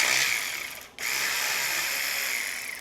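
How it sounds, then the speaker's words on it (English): An EastVolt Max Lithium 12 volt cordless ratchet spins off a 10 mm bolt, a close, steady motorized buzz with one brief dip before it resumes, alone without talk. "We have our East Volt Max Lithium 12 volt cordless."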